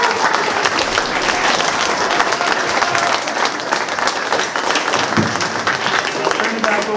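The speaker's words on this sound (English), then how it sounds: "One round of applause for everybody." Audience applause at a school primary-years play performance, sustained dense clapping from a crowd that fills the room, with a voice faintly heard beneath it.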